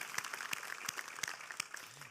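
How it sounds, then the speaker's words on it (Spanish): Faint, scattered handclaps from a church congregation applauding the Lord during a service, a few sparse claps rather than a full ovation. "Dale un aplauso al Señor"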